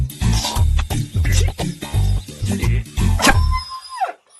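A dog barks and yips repeatedly in a comedic wedding scene, the short sharp calls coming close together over a busy background before ending in a rising whine.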